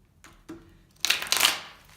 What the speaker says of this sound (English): I'm going to shuffle a little bit more for you.